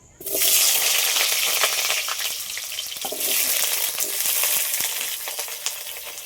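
Potatoes fry in a pan of hot oil, a steady bright sizzle that holds loud and close from start to finish, with faint clicks of stirring now and then.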